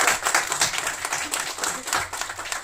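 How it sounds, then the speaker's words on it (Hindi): Audience applause in a live hall after a Hindi-speaking performer asks the crowd to clap, with steady, dense clapping throughout. "चलो ताली बजाओ।"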